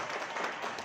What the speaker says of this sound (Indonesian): Aplaus dulu Bapak Ibu semuanya buat Pak Ahmad dari Cikarang.